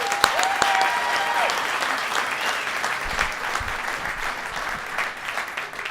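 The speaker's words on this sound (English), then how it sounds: "Let's give them another round of applause." Audience at an outdoor opening ceremony for a transit line breaks into sustained applause, a lively wash of clapping with scattered cheers and a few whistles, gradually tapering off.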